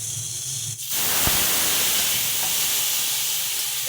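Water poured into fried spices in a hot kadai, cooking kochur loti with dried lote shutki: after a sudden splash, a loud, steady broadband hiss and sizzle fills the rest of the clip.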